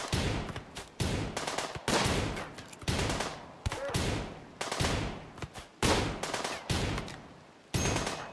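Machine pistol bursts in a RimWorld firefight, rapid gunfire rattling in repeated short volleys with brief gaps between them, loud and close with no talking.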